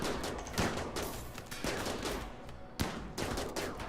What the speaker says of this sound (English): Alright, it's starting. Gunfire has started.